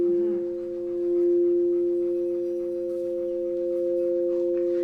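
Crystal singing bowls sustaining bright, pure ringing tones, a steady layered hum that swells gently and holds without pause, close and fairly loud with no talk.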